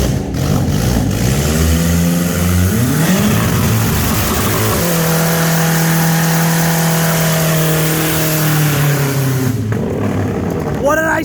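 Kia Spectra engine with open exhaust, revved hard with the hood up, rising and falling through several throttle blips, then held at a high, steady, raspy drone before dropping back, loud and close.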